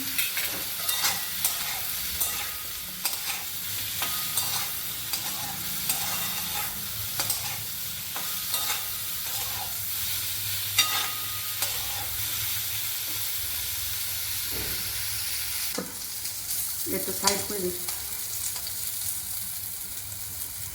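Sliced pointed gourd (potol) frying in a pan with a little salt and turmeric, a steady close sizzle with stirring scrapes throughout and a brief voice near the end.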